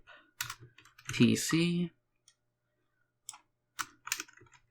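Computer keyboard typing in short clusters of quick clicks near the microphone, separated by silent gaps, with someone speaking briefly between the keystrokes.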